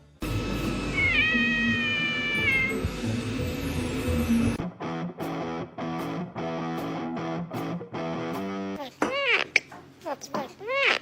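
A cat meows clearly in the opening seconds, a few drawn-out cries over background noise, followed by rhythmic music with sharp chirping effects.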